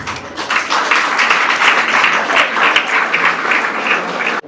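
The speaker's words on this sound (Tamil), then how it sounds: "ஒரு கரகோஷம்" A school event audience at V K M High School in Vilvarayanallur applauds a family, loud, dense clapping sustained evenly throughout before cutting off abruptly.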